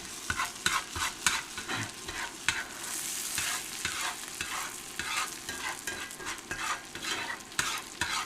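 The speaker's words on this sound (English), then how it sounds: "Here I'm just kind of basting it with that buttery goodness." Fish pan-frying in butter in an iron skillet on an induction burner while being basted, giving a steady close sizzle broken by sharp crackles and scraping spoon clicks throughout.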